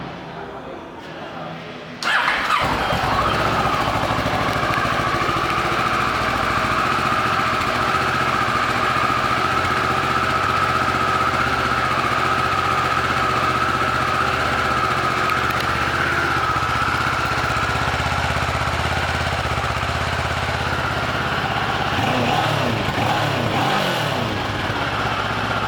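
A 2009 Kawasaki ER6N motorcycle engine starts and runs at a steady, loud idle close by for over twenty seconds, with a slight shift in tone near the end.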